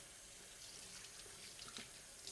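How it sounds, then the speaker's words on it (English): Water flows freely from a tap into a sink while surgical trocars are rinsed, a steady faint broadband hiss with a few small splashes, no voices. "Plenty of free-flowing water."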